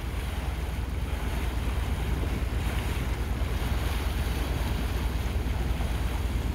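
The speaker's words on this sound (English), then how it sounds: "here comes our second ship of the day" A ship passing on the St. Clair River, heard as a steady broadband wash of water and wind noise with a low rumble underneath, continuous and fairly loud throughout with no voices.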